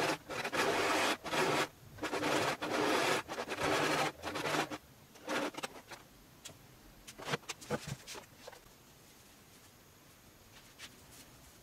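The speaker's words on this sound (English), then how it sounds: "After I'm gonna take the two sleeves and place them on the overlocker." An overlocker serges the sleeves of a puffy-sleeve peplum blouse in short, loud mechanical bursts of whirring stitching, separated by pauses and turning sparse and quieter in the second half.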